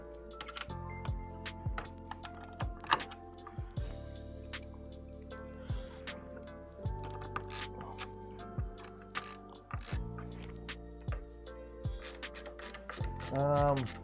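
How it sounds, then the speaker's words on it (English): A ratcheting screwdriver drives screws into 3D-printed plastic parts from an X1 printer, producing repeated crisp clicking runs and close-up mechanical ratchet ticks in short bursts, with pauses and light handling noise between them. "whenever you're screwing into plastic, be careful"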